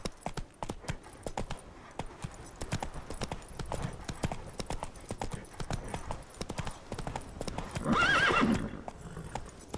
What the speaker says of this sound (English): Whoa there, Roach. Take it easy.